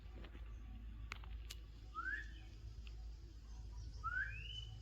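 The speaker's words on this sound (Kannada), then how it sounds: "ಶಿಳ್ಳೆ ಹೊಡಿತಿದ್ದ ಅದ ಪಕ್ಷಿನ" A bird in a farm orchard whistles twice, each call a clear rising whistle about two seconds apart, moderately near over a steady low rural background hum with a few faint clicks.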